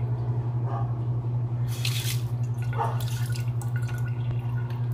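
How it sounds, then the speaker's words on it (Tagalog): A leaky faucet keeps dripping, a couple of soft separate drips and a brief splashy burst over a steady low hum, close by. "Ay, may tulo pa rin."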